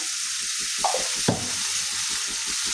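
Mustard and green chili paste sizzles steadily in hot oil in a pan for a fish curry, with a couple of sharp stirring scrapes partway through; no one speaks.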